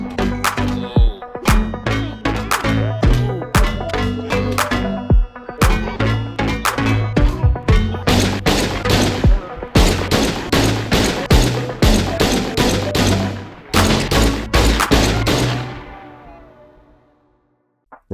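Rapid bursts of video game gunfire from Schedule I as police officers are gunned down, loud and dense with many overlapping shots and a few pauses, then tapering off to silence at the end.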